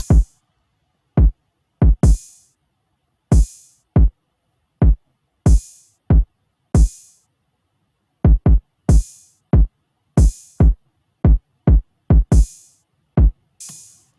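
Punchy kick drum hits paired with open hi-hats in an FL Studio beat, struck in a loose, bouncy pattern of close, sharp thumps each topped by a bright hissing hat tail, with short silent gaps between groups.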